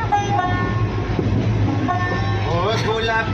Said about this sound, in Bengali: ট্রেন থেকে ফারাক্কা ব্রিজ পেরোনোর সময়টা খুবই ভালো লাগে।